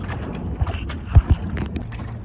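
Gusty wind buffets the microphone aboard a small sailboat, low rumbling with a few sharp thumps and faint water movement, no talking.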